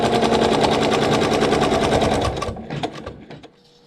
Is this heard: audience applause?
no